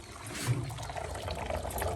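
Soup is poured into a sauce while cooking Nile perch in an African village kitchen, making a faint, steady trickling and splashing of liquid throughout, with no talk over it.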